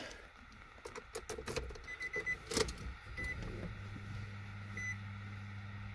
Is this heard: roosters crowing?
no